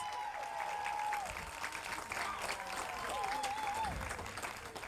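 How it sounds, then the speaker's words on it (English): Audience applause at a domestic violence walk, fairly faint and steady, spread across a crowd, with a whistle-like tone rising briefly over the clapping. "Give another round of applause."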